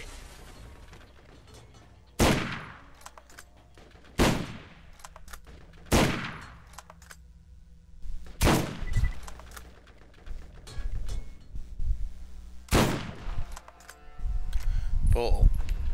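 Loud, evenly spaced single gunshots from the video game Borderlands, about six sharp cracks separated by pauses, over quieter game sounds and background noise.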